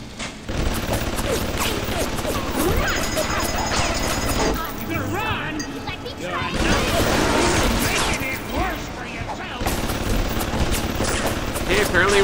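Enemy gunfire in BioShock bursts in rapid, loud volleys with mechanical clatter, pausing briefly before resuming, while voices talk over parts of it.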